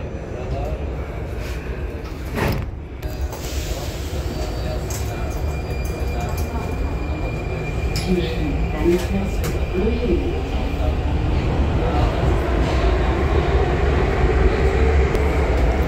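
Prague metro train ride heard from inside the carriage, a steady low rumble of wheels and motors with a door-closing thump early on, while people talk over it.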